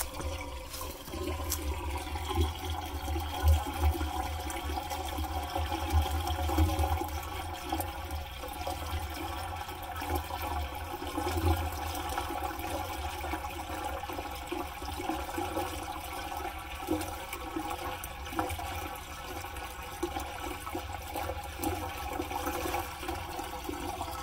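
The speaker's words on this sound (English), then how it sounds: "Look at that water just gushing out." Water gushing steadily from a clogged septic tank filter, a continuous rushing, splashing flow with low rumble, moderately loud and unbroken throughout, no voices.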